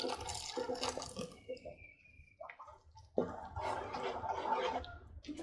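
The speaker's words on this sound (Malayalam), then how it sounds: "മിക്സിയിലെ ജാറിലിടുന്ന അരപ്പ് നമുക്ക് ഇതിലേക്കൊന്ന് വെള്ളം ഒഴിച്ച് കഴുകി ഒഴിക്കാം." Water is poured into a mixer-grinder jar to rinse out the ground paste, then tipped into a pot of Kerala-style dal curry. Quiet splashing and gurgling pours come in two bursts, separated by a short lull.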